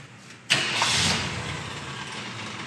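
A 1967 Ford Galaxie 500 engine cranks and fires up with a sudden loud start, then settles into a steady, fairly quiet idle.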